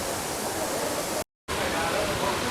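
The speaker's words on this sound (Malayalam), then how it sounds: "ഇപ്പോൾ ഞങ്ങൾ ഫസ്റ്റായിട്ട് ഈ വാട്ടർഫാളിലേക്കാണ് വരുന്നത്" A waterfall at Thenmala, near Tenkasi, gives off a constant, dense rushing roar that fills the scene evenly, broken once by a brief moment of total silence before the roar resumes.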